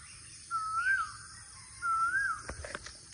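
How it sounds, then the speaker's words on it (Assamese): A crow gives two drawn-out caws a moment apart, fairly near, over a quiet outdoor background with faint other bird sounds at the end. "চৰাইৰ মাত"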